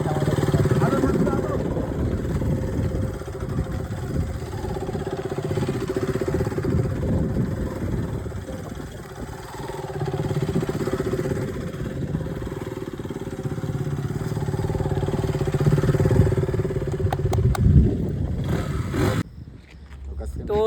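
A motorcycle engine starts and then idles steadily for about twenty seconds in a street in Kolkata, a low continuous rumble under someone talking, before it cuts out near the end.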